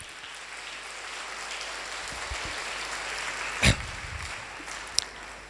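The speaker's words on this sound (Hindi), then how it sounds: "एक बहुत जोरदार ताली हमारे ग्रेट क्राउन एम्बेसडर कपल के लिए।" A crowd at a business meeting applauds a couple of ambassadors with sustained, moderately loud clapping, with one sharp thump midway and a brief click near the end.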